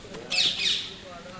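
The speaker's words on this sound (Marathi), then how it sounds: "गाईज इथे एक पोपट पण आहे, ते खूप आवाज करतं" A parrot lets out a single shrill, harsh squawk close by, lasting under a second against a quiet outdoor background.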